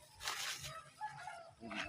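Chickens cluck and squawk in short bursts nearby, with some background noise and movement.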